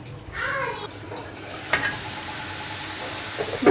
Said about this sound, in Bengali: এবার ঢাকনা দিয়ে বেশ কিছুক্ষণ কষিয়ে নেব